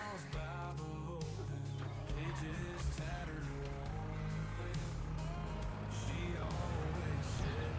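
A tractor engine drives along in the farming game Oak Bridge Farm, a steady low drone running continuously beneath a person talking.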